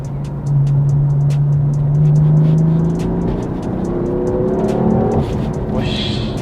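A 2014 BMW M4 sports car accelerates hard. Its engine note rises smoothly and loudly through the first seconds, then climbs again after a shift, with faint ticking in the background.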